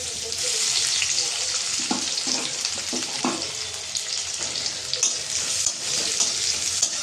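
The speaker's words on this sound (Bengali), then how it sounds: "কড়াইতে তেল দিয়ে দিয়েছি, তেলটা গরম হয়ে গেছে। এর মধ্যে দেবো আমি পেঁয়াজ।" Onions hitting hot oil in a wok set up a loud, steady sizzle and crackle that runs the whole time, with a few stirring knocks underneath.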